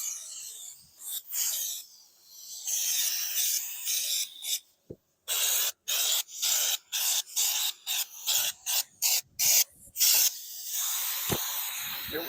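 Black coating sprayed outdoors onto a custom-built flag pole: a loud, close, steady hiss that breaks into a run of short, rapid bursts, then returns to a continuous spray.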